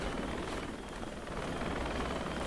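Helicopter rotor and engine noise from a military video game, a steady, loud broadband drone with continuous low thumping that fills the whole stretch without any voices.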